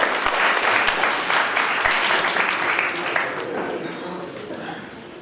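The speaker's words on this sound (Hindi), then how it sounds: "ताली बजाएं" Audience applause breaks out at an agrarian crisis workshop in Barnala, Punjab, a dense, sustained wash of clapping that fills the hall and tapers off gradually with some voices mixed in.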